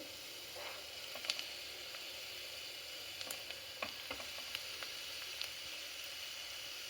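Grated beetroot cooks in a pan for beetroot palya, a quiet, low sizzle with scattered soft crackles and stirring clicks, faint and without talk.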